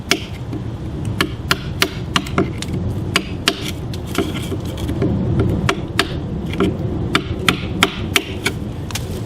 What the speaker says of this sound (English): Now we got to knock all this stuff out of there.